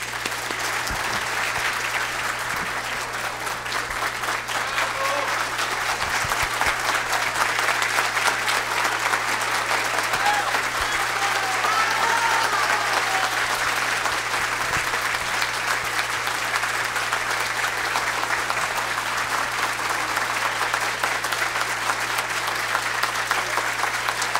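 Sustained applause from an audience at a business luncheon event, dense and even, filling the whole stretch without a break and with no voice on top.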